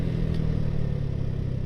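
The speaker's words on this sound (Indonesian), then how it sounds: "Nah ini kita udah ganti ke mode silentnya, sunyi, senyap, kayak motor biasa" A Yamaha R15 V3 fitted with a Tritec Ronin Hanzo exhaust set to silent mode idles nearby, giving a steady, muted low burble with an even pulsing rhythm and no revving.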